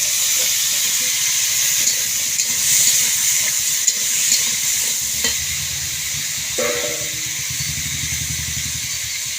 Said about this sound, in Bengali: ডুমো ডুমো করে কেটে রাখা আলু দিয়ে দেবো।